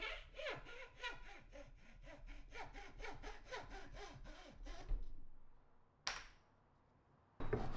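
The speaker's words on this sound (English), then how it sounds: "I could cut that from another scrap of pallet wood and make some awful saw noises again" A hand saw cutting a scrap of pallet wood: about a dozen quick, rasping back-and-forth strokes, close and clear, then the sawing stops and a couple of sharp knocks follow.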